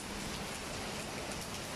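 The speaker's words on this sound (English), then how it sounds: "raining, raining, raining here in Singapore." Steady rain falls over Tampines, Singapore, heard from a rooftop, with a soft, even hiss and patter, quiet and continuous, with no voices.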